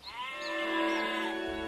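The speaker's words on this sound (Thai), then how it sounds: "คนเลี้ยงแพะไล่ต้อนแพะกลับกันแล้ว" Goats bleat in a long wavering cry, close and fairly clear, as a herder drives them home in the evening.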